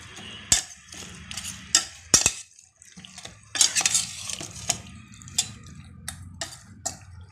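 Pork coated in masala stirred in a pan with onion, a spoon scraping and clinking against the metal in irregular knocks over a low background rumble, with brief quiet gaps and no talking.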